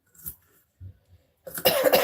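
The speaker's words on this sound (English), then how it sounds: "Everybody's still coughing here." Several coughs from people nearby in a cold room, a few short separate coughs followed by a louder, rougher burst at the end.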